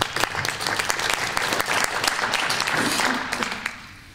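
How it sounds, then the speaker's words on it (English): An audience at a business presentation applauds a speaker from the coating company ARMOR, with sustained, fairly loud clapping that thins and fades out near the end; a voice is faintly present beneath it. "So please give a round of applause to Thierry Dagron."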